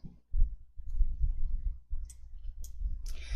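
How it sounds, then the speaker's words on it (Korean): Mouse clicks in an Excel spreadsheet: a few sharp, quick clicks near the end over a low, muffled background. "데이터 탭에 내림차순을 클릭"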